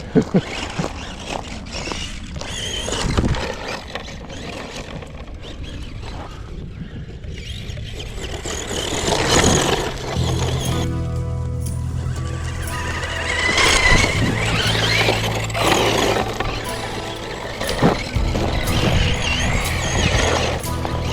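A Tamiya Ford F-150 Ranger XLT RC truck drives through dirt. Its electric motor whirs in uneven bursts, with scraping crunches and gritty spray as the wheels churn, some louder jolts and no talking.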